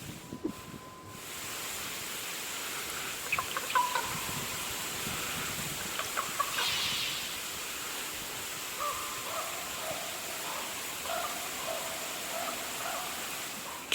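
A raven croaks in the taiga as it follows a dog along a riverbank. A few hollow calls rise over steady wind and water noise, with sparse croaks continuing in the latter half.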